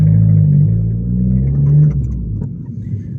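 An Abarth car pulls away in comfort mode, its engine giving a steady low rumble that rises slightly, then settles into a smoother, quieter drone as the car gets moving.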